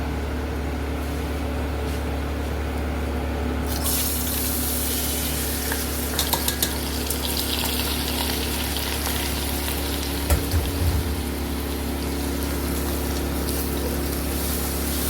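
Mutton boiling in a pot for rezala on a home stove, a steady low bubbling and hiss that runs unbroken throughout, with a few faint clinks partway through.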